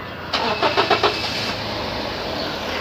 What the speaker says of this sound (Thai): เราก็ จะสตาร์ทเครื่องยนต์ก่อนนะครับ